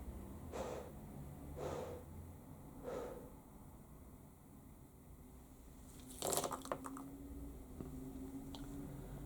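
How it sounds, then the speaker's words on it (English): Three slow breaths in and out, soft and close, evenly spaced, followed by a brief rustle, with no talk. "I breathe 3 times."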